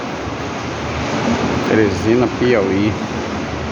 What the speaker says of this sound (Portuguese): Chuva, muita chuva, chuva, água demais.